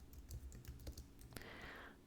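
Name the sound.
typing a Linux command on a computer keyboard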